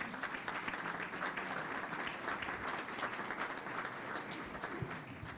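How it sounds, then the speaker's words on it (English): Audience applause for an award winner at a school board of education meeting, steady clapping from a room of people sustained throughout, fairly quiet and distant. "How about a round of applause for Amy?"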